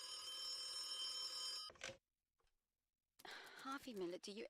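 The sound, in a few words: telephone ringing in the video game The Occupation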